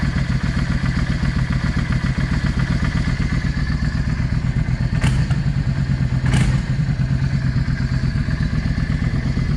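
A Yamaha V Star 650 motorcycle engine idles with a fast, even, loud pulsing beat, close up, broken by two brief sharp clatters partway through.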